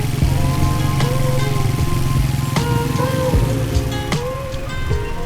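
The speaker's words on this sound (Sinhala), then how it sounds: "මේ බයික් එකත් ඩෙමැක් එකක්. ඩෙමැක් D7." A Demak D7 motorcycle riding along Biyagama Road toward Colombo, its engine droning steadily with shifting pitch under strong wind rush, loud and close throughout.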